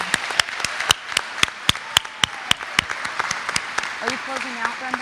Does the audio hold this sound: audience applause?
yes